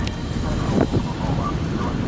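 Rain wrapping around a tornado during an April 2011 thunderstorm, a dense, steady rush of rain and wind buffeting close to the microphone, with a low rumble underneath.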